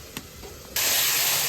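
Tempering spices hit a pot of khichuri made with rice and lentils, a sudden loud hiss of sizzling oil bursting up after a few soft clinks and holding steady to the end.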